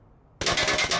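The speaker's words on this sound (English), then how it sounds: "And we are firing" In the VR shooter Onward, a gun fires on a shooting range in a sudden loud burst of rapid automatic shots, a rattling string of about six cracks after a quiet moment.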